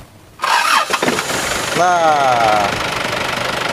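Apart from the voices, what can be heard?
2002 Isuzu Panther diesel pickup engine starting and running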